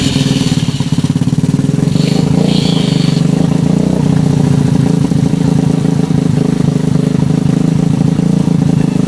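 A Honda Revo motorcycle engine runs loud and steady with a rough mid-pitched drone and throbbing rhythm close by, and it stalls when put into gear. The engine keeps a constant level throughout.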